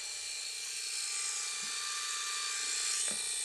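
A Polaroid Snaptouch instant camera printing a photo gives off a faint, steady high-pitched mechanical whir with a couple of soft clicks near the end, quiet and close with no talking.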